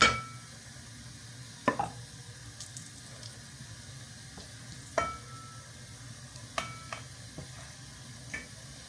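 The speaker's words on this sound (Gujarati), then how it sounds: "તો તેલ ગરમ થઈ ગયું છે તો આપણે લોટ નાખી દઈએ." Wheat flour roasting in hot oil and ghee in a pan, a faint, soft sizzle broken by occasional light clinks and scrapes of a spoon against the pan; no voices.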